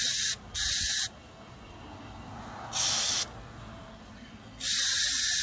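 Several short spray bursts from an aerosol can are directed onto the parts of a lawn mower that won't start, heard close and loud with quiet gaps between them.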